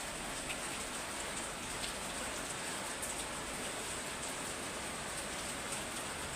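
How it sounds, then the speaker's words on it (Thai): Steady rain falling on a surface, a continuous close hiss of drops with no voices. "มีเสียงฝนนี่ได้พี่น้องเด้อ เสียงฝน"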